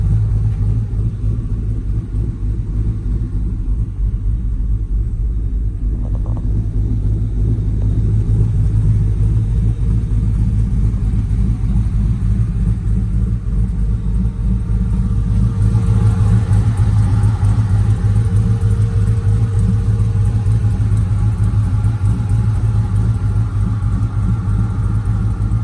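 A steady, deep engine rumble from a Chevrolet Colorado prerunner truck with headers and a custom Borla exhaust idles continuously at close range, low and throaty, with no talking over it.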